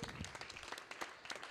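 A conference round-table audience at the BlueTech Show gives a brief burst of soft, distant applause of scattered clapping hands.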